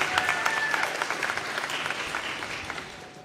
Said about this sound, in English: I just want y'all to give yourselves a round of applause for y'all's hard work